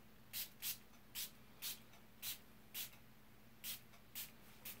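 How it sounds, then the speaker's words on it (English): Spray bottle spritzing water over pigment sprinkles on a card, about nine short, soft bursts of hiss in an irregular rhythm, faint against a quiet background with a low steady hum. "And then I'm going to spritz this just like I did before."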